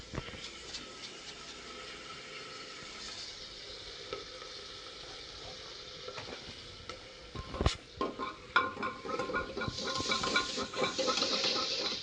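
Cumin seeds crackle and sizzle in hot oil while tempering for a quick Maharashtrian phodnicha bhaat. The frying hiss holds steady, and scraping stir sounds and a louder clatter come in near the end, with no talking.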